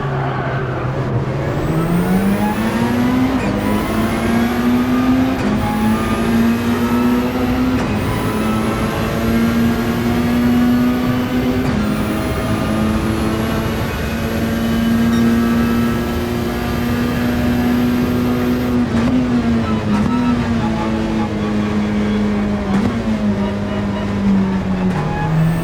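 Gr3 race car engine in Gran Turismo during a Nürburgring endurance race, loud and close, a steady high-revving drone that rises through gears with repeated shifts and brief lifts throughout.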